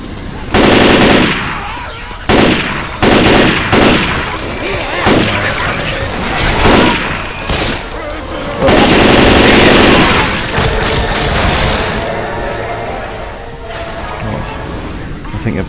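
Loud bursts of rapid automatic machine gun fire in Left 4 Dead 2, broken by short pauses into repeated volleys, with a player's voice heard between them.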